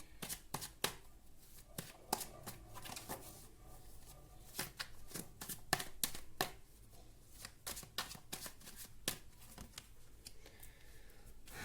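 Tarot cards shuffled and drawn by hand, a run of sharp riffling snaps and flicks in irregular bursts, close and fairly quiet, with no talking.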